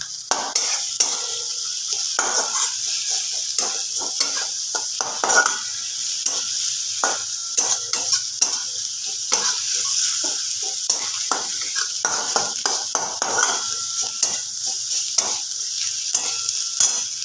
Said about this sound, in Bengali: এবার একটু ভালো করে নাড়াচাড়া করতে হবে